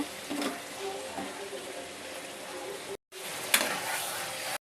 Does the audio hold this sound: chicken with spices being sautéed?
yes